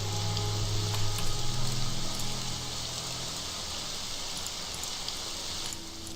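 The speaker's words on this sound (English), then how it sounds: "Now there's a sort of soothing rain." Steady rain falls in the video game Morrowind, an even, soft hiss with scattered drops that holds for several seconds under a low ambient hum.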